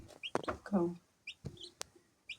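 Blue slate turkey poults chirping in a small batch of young birds, bright high peeps in short bursts, close and moderately loud, with someone talking between and over them.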